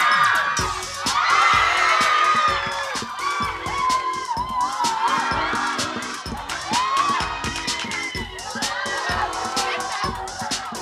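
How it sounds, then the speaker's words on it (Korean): A studio audience at a Korean idol dance show cheers and whoops loudly, with screams and shouts over scattered applause, sustained and dense throughout. "텔미 뜨거운 박수 부탁드립니다."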